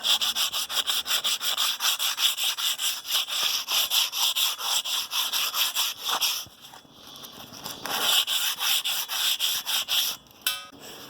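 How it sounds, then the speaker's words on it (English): Hand sanding with sandpaper on the split ring and wheel of a 1952 military Deuce and a Half truck, fast repeated scratchy rubbing strokes close by, with a short break midway before the scrubbing resumes. "Could have brought more sandpaper."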